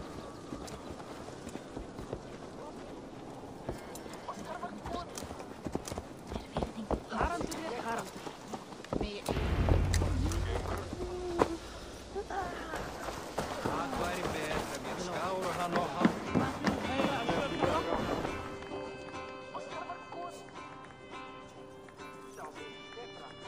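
A horse's hooves clip-clop steadily in Assassin's Creed Valhalla, a close, rhythmic trot that swells midway and then fades, with voices speaking over it.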